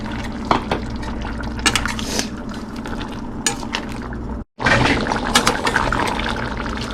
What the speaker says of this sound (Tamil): நான் ஏற்கனவே புளி தண்ணி இங்கே கரைச்சி வச்சுருக்கேன், அதையும் ஊற்றி கொதிக்க விட்டுருவோம்.